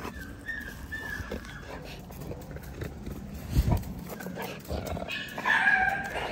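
An XL lilac tri-colored male dog barks a few times outdoors at moderate distance, with shuffling and background noise between the barks.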